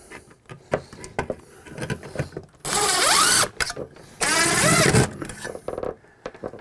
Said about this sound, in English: I'm just going to grab a couple screws and mount it on the wall